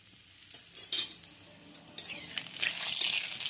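Whole cumin seeds and asafoetida hitting hot oil in a wok: a few clinks of a spoon, then a bright crackling sizzle that builds and stays loud through the final seconds.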